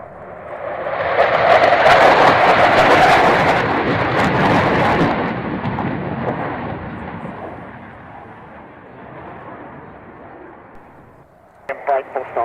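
An Avro Vulcan bomber's jet engines roar at an airshow, a loud rumbling swell that fades slowly, followed by brief radio voices.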